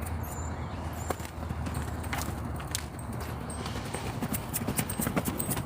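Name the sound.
horse hooves cantering during training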